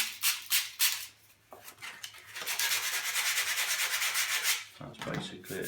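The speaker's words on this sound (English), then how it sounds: "It's just a quick rub down to take all that lacquer away and give us a nice surface to adhere to." Abrasive rubbing down of lacquer on a fishing pole to key the surface, beginning as short rhythmic scrubbing strokes and then becoming a continuous close-up scratchy sanding sound.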